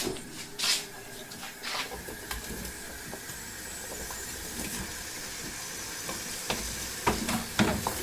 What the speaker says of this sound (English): Potatoes are diced, and we are going to pop them in the curry mixture.